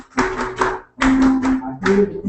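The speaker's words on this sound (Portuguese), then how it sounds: "vai dar palmas" A church congregation claps in short rhythmic bursts during a joyful worship song, three distinct clusters of hand claps separated by brief pauses, with singing voices mixed in.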